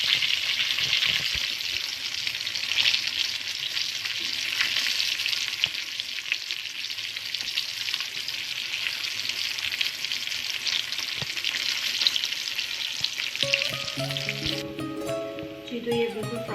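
Breaded zinger burger chicken pieces deep-fry in hot oil, giving a steady, loud, dense sizzle that runs nearly the whole time before thinning out toward the end, with no one talking.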